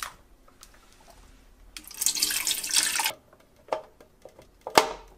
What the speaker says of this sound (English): Fill the reservoir to the max line.